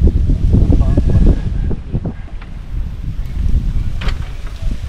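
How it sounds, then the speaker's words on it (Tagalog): Strong wind gusting and buffeting close to the microphone in a farm field where a hut is being built, a rough continuous roar that eases slightly midway, with faint voices underneath. "Oo, mahangin ano."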